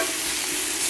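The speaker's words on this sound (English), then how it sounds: "You can see the coconut oil just gives it this whole sizzling effect" Food frying in coconut oil for BLT summer rolls gives a steady, loud, broadband sizzle with no talk over it for the whole second.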